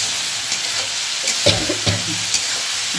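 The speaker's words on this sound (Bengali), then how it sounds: "এবার ভালো করে নেড়ে মিশিয়ে দেবো হলুদটা" Ridge gourd with salt and turmeric being stirred in a frying pan, with a steady sizzle and a few scraping knocks of the spatula against the pan. There is no talk.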